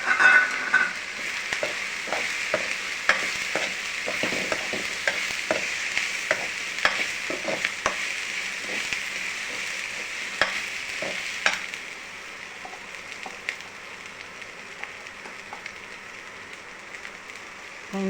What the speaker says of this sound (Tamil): கரிசலை பிரண்டை வதக்கணும் இல்லையா,